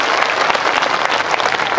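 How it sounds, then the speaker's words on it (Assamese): A crowd at an Assam BTC election rally applauds in welcome of MP Bhubaneswar Kalita, a loud, dense wash of many clapping hands that stays steady from start to finish. "এটা হাত চাপৰিৰে তেখেতক সম্বৰ্ধনা জনায়"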